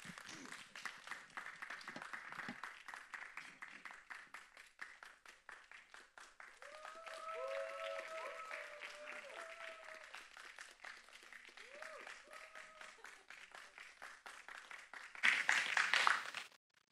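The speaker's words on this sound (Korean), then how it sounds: "환영의 박수로 맞이하겠습니다" Audience applause welcoming a pastor at a church youth summer retreat evening service: dense, steady clapping from a crowd that fills the room throughout, with a few sustained musical tones in the middle and a louder burst of claps near the end.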